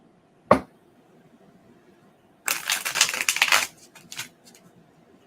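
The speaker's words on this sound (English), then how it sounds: "that was not a good shuffle." A deck of cards is shuffled: one sharp snap, then a dense riffling flutter lasting about a second and a half, trailing into a few scattered clicks, close and alone.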